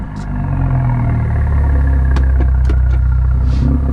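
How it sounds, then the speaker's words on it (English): A BMW F30 335i with a catless, muffler-delete straight-pipe exhaust idles with a deep, loud exhaust rumble, then revs up, with a few clicks and clatters over the steady drone. "we're just gonna rev the car a little bit"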